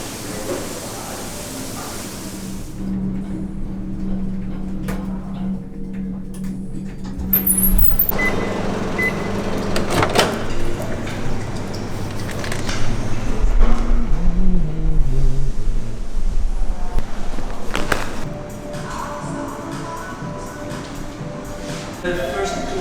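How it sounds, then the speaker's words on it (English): Busy city street with trucks and buses rumbling past, reversing beeps, hissing air brakes and construction clatter mixed into a dense, loud wash of traffic noise, with people talking at times. "City noises, you know, all the chaos happening, trains, buses, construction sounds"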